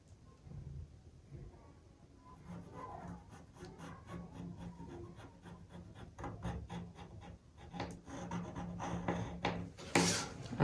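A pencil scratches a new bateau neckline onto a paper pattern in a run of short, rhythmic strokes, quiet at first and growing louder and more insistent toward the end.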